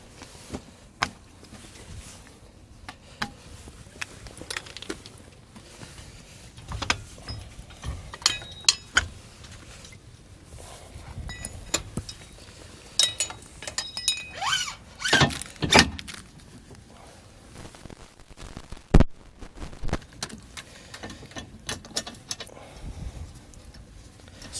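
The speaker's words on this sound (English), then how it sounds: "we're going to hook up the arms from our tow bar to the base plate tabs on our" Metal clinks, clacks and squeaks as tow bar arms are hooked onto the base plate tabs of a 2020 Jeep Gladiator, scattered close handling sounds with a few sharper knocks.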